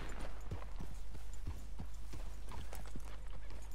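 Hoofbeats of a black Arabian horse in Red Dead Redemption 2, a steady rhythmic clip-clop of a walking or trotting gait, close and continuous, with no talking.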